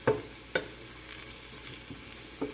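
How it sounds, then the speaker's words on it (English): Chopped onions, leeks and carrots sauté in a pan, a soft frying hiss broken by a few light clacks of a utensil against the pan. "I'm just going to saute them up until they're nice and"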